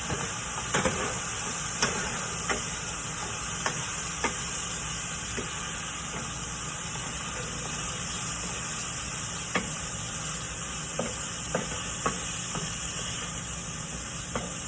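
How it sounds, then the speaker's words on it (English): Rice being stirred into squash and zucchini in a hot pan, a steady hiss and sizzle with scattered spoon scrapes and taps, close and continuous, no talking. "So you're just gonna mix all that together like that"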